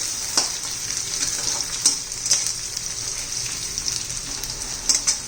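Chopped onion frying in a pan for a stale bhakri breakfast, a continuous crackling sizzle with occasional louder spatters and stirring scrapes, close by with no talking.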